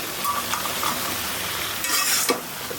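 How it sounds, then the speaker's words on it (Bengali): Vegetable stems and taro are sautéed in a pan in a home kitchen, producing an even close sizzle with light stirring scrapes and a short louder burst of hissing near the end. "এদিকে ডাটা কষানো হচ্ছেই আর কচু দিয়ে কষাই"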